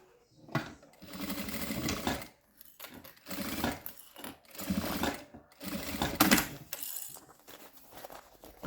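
Sewing machine stitching a straight seam on fabric pieces for a double pencil case and toothbrush holder, running in several bursts of rapid mechanical whirring separated by brief pauses, close and fairly loud.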